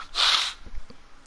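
A single sharp, breathy sneeze bursts out close to the mic, followed by a few faint sniffs and small noises in a quiet room.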